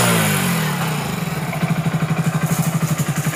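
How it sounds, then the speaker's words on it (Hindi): A Hero HF 100 BS6 motorcycle engine, which has a fuel-pipe problem and a broken injector cap, comes down from a brief rev into a loud, close, pulsing idle. "एक बार मैं रेस करूँगा हल्का।"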